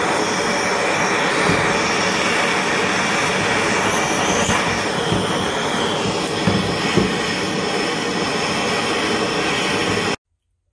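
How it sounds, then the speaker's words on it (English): A torch roars steadily as it burns out seam sealer around the weld area for a Nissan S13 roll bar, a loud continuous hiss close by that cuts off abruptly at the end. "next we're going to burn out the seam sealer that's around the edges of where this is going to be welded"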